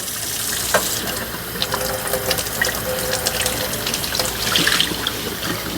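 Water runs from a sink tap over a leather holster being wetted for forming, a steady close splashing stream with small drips and sloshes as the leather is filled and handled.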